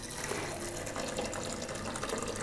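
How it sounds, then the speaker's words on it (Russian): Boiling water is poured over porridge with dried apricots, making a soft, steady gushing rush that runs the whole time with no voices. "И заливаем кипятком"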